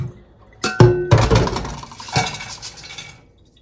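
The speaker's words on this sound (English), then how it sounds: "And then I'm going to put them into my pot." Dried beans, already picked and washed, tipped into a metal cooking pot: a sudden clattering pour of hard pieces with clinks and thunks, a second smaller clatter, then fading rattles.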